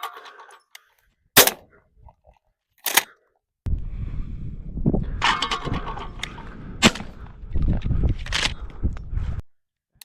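An HK MP5 .22LR rifle firing at range targets, with sharp, separate cracks spaced apart, then a denser cluster of shots mixed with voices and rustling nearby.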